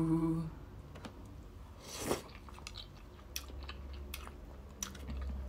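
Close chewing of Nissin soba noodles dipped in egg yolk, soft wet bites and a few sharper crunchy clicks spread across a quiet room.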